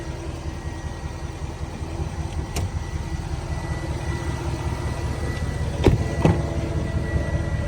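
A tuned, lifted 2016 Nissan Titan XD farm truck with a Cummins diesel engine runs at a steady idle, a close, even low rumble with a couple of brief clicks near the end.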